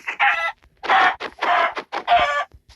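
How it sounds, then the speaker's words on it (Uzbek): Chickens cluck repeatedly in a video game, several loud, close bursts of squawking clucks in quick succession with short gaps between them. "Tovuqdan epik narsa tushadi."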